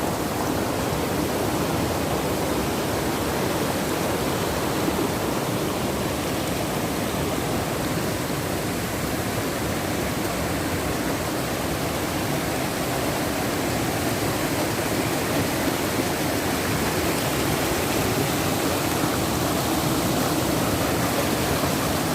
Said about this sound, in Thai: ครับน้ำตกมันไหลเป็นชั้นๆ ลงมาจากข้างบนนะครับ